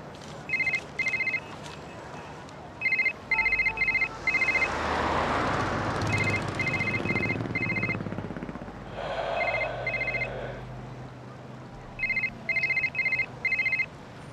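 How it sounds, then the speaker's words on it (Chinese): Electronic telephone ringtone repeating in short bursts of rapid trilling beeps, loud and close, with pauses between rings and a low rumbling background that swells in the middle. "黎明，你可算接电话了"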